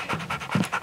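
A big dog pants rapidly and close by in quick, breathy huffs after playing frisbee, with no talking over it.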